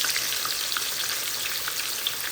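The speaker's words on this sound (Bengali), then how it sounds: "মাছ 2টাকে প্রথমে ভেজে নিব।" Two fish frying in a pan give off a steady, close hiss of sizzling oil that runs evenly throughout, with no talking.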